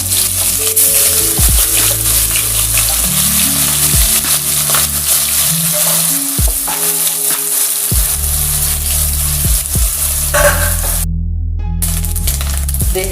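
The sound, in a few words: frying prawns in hot sesame oil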